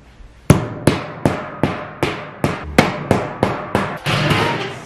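Hammer strikes while assembling a wooden nightstand: about ten loud, sharp, evenly spaced blows close by, each ringing briefly, followed by a short scraping clatter.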